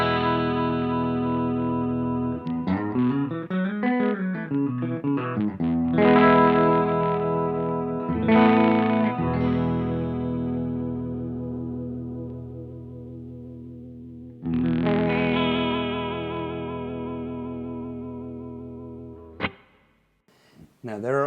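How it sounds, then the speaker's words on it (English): Electric guitar played through an Electro-Harmonix Deluxe Memory Man 550 TT analog delay pedal with only modulation engaged, sustained chords and notes wobbling with chorus-like pitch warble, loud and up close, ending in a few sharp clicks. "Now, of course, you can also use the modulation without the delay."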